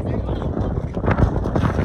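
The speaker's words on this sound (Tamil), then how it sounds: "காற்று பயங்கரமாக இருக்குது." Strong wind buffets the microphone at an outdoor cricket ground during a tournament match, a low rumbling roar under a commentator's continuous talk.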